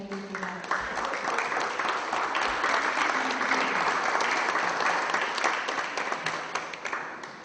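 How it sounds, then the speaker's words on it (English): An audience at a BCTV members' annual meeting in 2011 gives sustained applause, a dense, even wash of many hands clapping that continues steadily for several seconds at moderate loudness. "they all get a round of applause"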